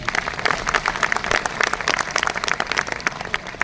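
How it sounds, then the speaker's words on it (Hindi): An audience at a business meeting in Ahmedabad breaks into dense, lively clapping that continues throughout at moderate loudness. "दिनेश भाई इस पे तालियां सबसे आसानी से बजी"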